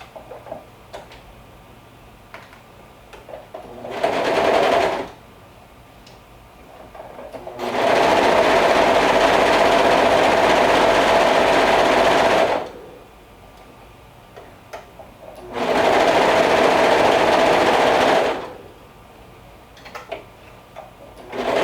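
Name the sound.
sewing machine sewing gathering stitches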